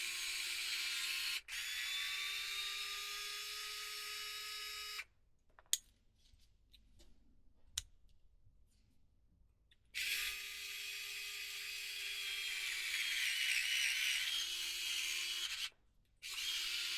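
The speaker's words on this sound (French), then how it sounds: "grâce à mon tournevis électrique" An electric screwdriver drives screws while a GENIUS GTC8E RC car differential is assembled, giving two long, close whirring runs with the pitch climbing as each screw seats. Between the runs there is a quiet gap of small handling clicks.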